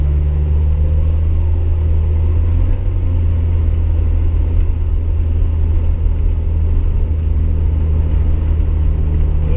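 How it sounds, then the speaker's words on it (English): A Jeep Wrangler SE engine runs in drive as the gas is applied, giving a loud, steady, close rumble with a deep drone that holds throughout. "now put it into drive and hit the gas"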